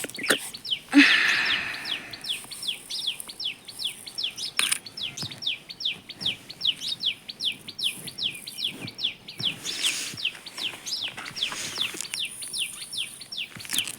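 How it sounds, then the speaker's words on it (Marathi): Sparrows chirping close by while coming to eat rice grains, a rapid run of sharp, evenly spaced chirps repeating for several seconds over soft background noise, with occasional faint knocks. "बघा चिमण्या आल्या"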